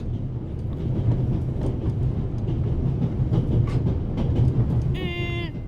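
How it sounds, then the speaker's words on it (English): Steady rumble of a train rolling along rails in the video game The Raven Remastered, continuous and fairly loud throughout, ending with a brief bright tonal chime or whistle near the end. "So what, we're on a train or something?"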